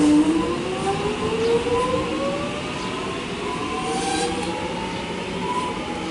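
A Melbourne suburban train pulls into the platform at Epping station with a steady rumble, rising and falling wheel and motor whine, and faint squeals, close and continuous.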